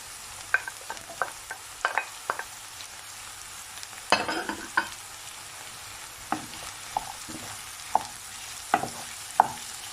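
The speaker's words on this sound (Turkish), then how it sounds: "Biraz patatesiyle kavuracağım." Potatoes sauté in a pan with onion and garlic for spinach stew, giving a soft continuous sizzle broken by close scraping stirs and clicks of the utensil against the pan, with no talking.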